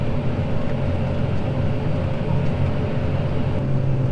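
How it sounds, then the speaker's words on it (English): A farm tractor hauls a full wagon away from a new combine during harvest, a loud steady diesel rumble and droning hum with rattling undertones, constant and close throughout. "And here comes Curtis with the full wagon"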